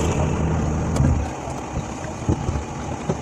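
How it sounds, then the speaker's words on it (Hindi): A car with a burst exhaust silencer rumbles steadily nearby in Karachi, a rough, continuous engine drone with a few faint knocks, no talk over it. "क्योंकि आई थिंक इसका साइलेंसर फट गया है"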